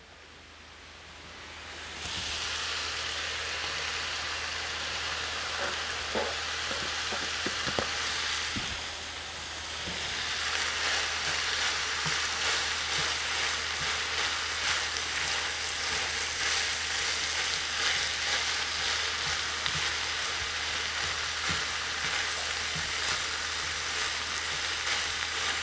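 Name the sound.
carrots, peppers and spring onion sautéing in a pan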